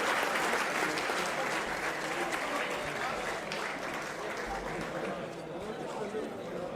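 Audience applause honoring soldiers at a Congress rally, a dense, steady wash of many hands clapping that carries on throughout with a murmur of crowd voices beneath.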